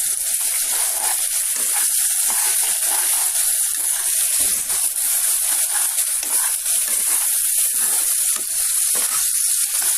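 Two medium onions and two medium tomatoes frying in a pan for a Pakistani potato dish, a loud, dense, continuous sizzle with a bright hissing texture that never lets up.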